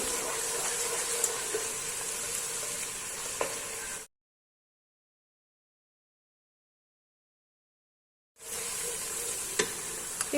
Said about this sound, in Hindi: थोड़ा सा इनको भून लेंगे हम